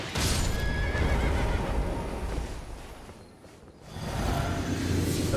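A horse in a video game neighs and whinnies loudly with clip-clop hooves, the sound dipping briefly before rising again, no voices.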